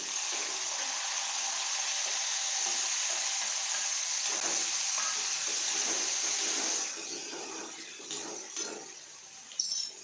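Home kitchen cooking with a steady sizzle of frying and running water from a tap, continuous and close for most of the stretch, then thinning into scattered clinks and stirring noises near the end; no one speaks.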